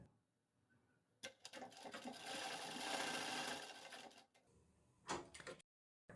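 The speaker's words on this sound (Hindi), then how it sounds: "यहाँ पर हमने सिलाई दे दी है" A sewing machine stitching a shirt placket runs in a steady rapid whir for about three seconds, stops, then gives a short second burst, close and clear with no talk.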